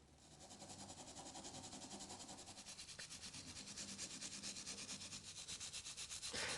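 A brass brush scrubs a silver crinkle metal sheet coated in soapy water with steady, rhythmic back-and-forth rasping strokes. The scrubbing is close and continuous throughout.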